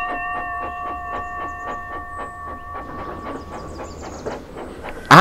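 Toby the engine trundles off, a steady rhythmic clickety-clack of wheels with sustained whistle-like tones over hissing rail noise, moderately loud, ending in a sudden sharp burst of hiss.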